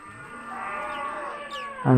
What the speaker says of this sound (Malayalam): ഒരു പശുക്കിടാവ്,